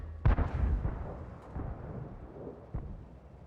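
A tank's main gun firing in a tank combat video game, a loud booming report followed by a rumbling tail and a second, fainter thud.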